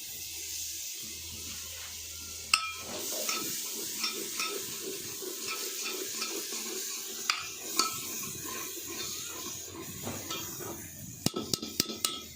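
Tomatoes go into a pan of frying chicken masala, giving a steady close sizzle with a spoon stirring and scraping through it, plus a few sharp clinks of utensil against the pan toward the end; no voices.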